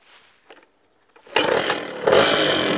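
A 1992 MR1 motorcycle engine starts after a few quiet clicks and sputters, then catches into a loud, close, raspy two-stroke-like buzz that rises again near the end.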